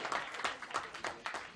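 A parliamentary public hearing audience gives a round of applause for the lawmakers, a steady patter of clapping with regular louder bursts through the short stretch and no voices over it.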